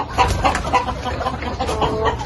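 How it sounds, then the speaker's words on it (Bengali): Several Sonali chickens cluck and murmur together in a continuous, busy chatter, close and fairly loud, with no one speaking. "আমরা পাকিস্তানি যে সোনালী মুরগি বলি এই সোনালী মুরগাগুলো"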